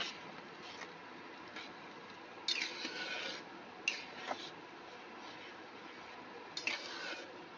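Spoon scraping and stirring mung dal with sugar in a pot, a few soft, irregular scrapes and rubs, fairly close and quiet, with no talking.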